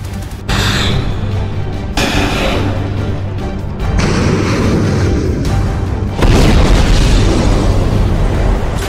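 Explosions from bombing in the Israel–Hamas war rumble as a series of heavy, loud booms with crashing debris, one continuous roaring barrage punctuated by sharper bursts, with no voices.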